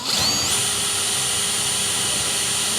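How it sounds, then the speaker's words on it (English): A power drill boring a pilot hole for a self-tapping screw while fitting a T4 camper conversion, a steady loud whine after a rising spin-up, held continuously and close with no talk. "I've now drilled the first hole"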